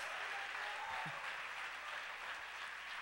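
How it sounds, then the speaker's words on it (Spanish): A church congregation clapping in praise during a Spanish-language sermon, a dense, even wash of applause heard at a distance and sustained throughout. "¡Dele palmas al Rey de Reyes, pues!"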